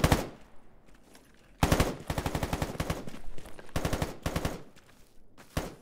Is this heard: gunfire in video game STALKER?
yes